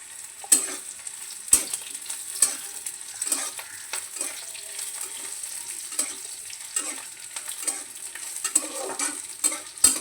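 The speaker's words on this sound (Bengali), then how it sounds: "ভাজা হয়ে গেলে সর্ষেগুলি দেখবে চটপট চটপট করে ফুটতে থাকবে" Mustard seeds fry in hot oil in a pan, giving off a steady sizzle broken by sharp, scattered pops and crackles throughout.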